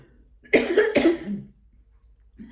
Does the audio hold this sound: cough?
yes